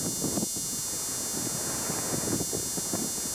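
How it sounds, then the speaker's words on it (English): Wind buffets the microphone outdoors in British Columbia in low rumbling gusts, pulsing unevenly throughout with no voices. "It's kind of windy right now."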